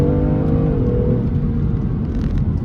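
A BMW M2 CS engine pulls hard under acceleration, a loud, steady rising drone heard from inside the car.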